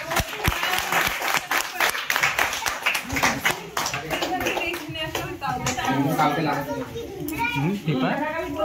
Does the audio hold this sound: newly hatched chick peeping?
no